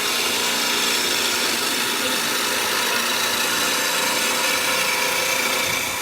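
A skew chisel cuts wood spinning on a lathe, giving a continuous bright hiss and scraping rasp, loud and close, steady throughout with no pauses.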